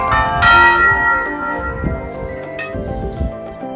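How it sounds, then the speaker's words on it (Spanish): Church bells ring out in several overlapping, resonant strikes at Buenavista, Tlaxcala, their tones lingering and decaying, heard from a moderate distance with no talking. "las campanas que le están tocando"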